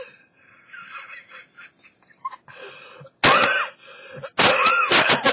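Two loud, harsh coughing fits ring out close by, each a burst of several rough hacks, after a stretch of quieter soft sounds.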